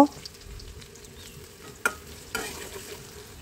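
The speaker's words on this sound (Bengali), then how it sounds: "পেঁয়াজ রসুন তেল দিয়ে পেঁয়াজ রসুনটা একটু ভেজে নেব" Onion and garlic fry in oil with a soft, steady sizzle, broken by a few sharp clanks of a stirring spoon against the pan. No one speaks.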